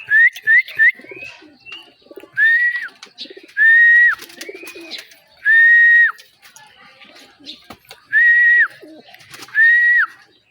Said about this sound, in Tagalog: Kagandang ibon.